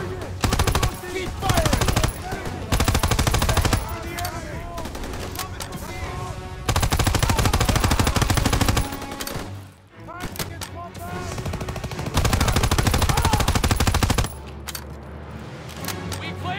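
Sustained bursts of automatic gunfire in a realistic city combat video game on PS5, with dense rattling volleys in long stretches separated by brief lulls, and voices talking among the shots.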